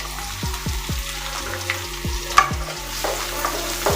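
Onions and green chillies fry in hot oil alongside bay leaf and cardamom for an egg curry, a dense close sizzle with rapid stirring scrapes in the pan.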